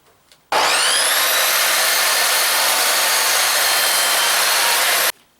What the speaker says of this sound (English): I'll cut the end pieces first